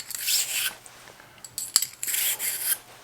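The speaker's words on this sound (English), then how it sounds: "Just start pulling the brush through" A cleaning brush is pulled through a shotgun choke tube, making close, faint bristly scrubbing strokes in two or three short bursts with small metallic ticks between them.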